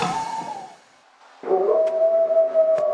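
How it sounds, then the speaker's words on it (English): A birch bark horn sounds two long, droning, wavering tones, the first fading out and the second entering more loudly and holding steady, with no voices. "birch bark horn."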